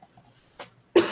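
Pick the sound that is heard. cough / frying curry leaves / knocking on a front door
cough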